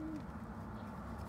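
Pigeons coo softly and low, a faint murmuring warble over a steady background hum, with no clear individual calls standing out.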